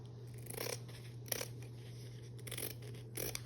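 Scissors snip through ribbon being trimmed for a handmade fall wreath, giving several short, soft, close cuts spaced irregularly over a faint steady hum.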